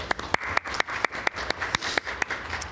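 A church congregation applauding new members during a worship service, sharp claps landing in a fairly steady rhythm for a few seconds, moderately close and without talk.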